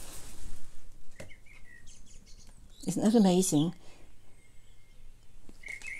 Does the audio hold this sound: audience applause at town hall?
no